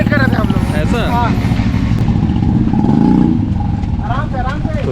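Motorcycles arrive at a nature camp in Jashpur, their engines humming and revving nearby beneath steady conversation, with one engine swelling briefly louder partway through.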